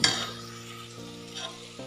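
Carrots and kohlrabi fry in a pan for restaurant-style veg biryani, a steady close sizzle with a light stirring scrape and a low, even hum underneath, no voices.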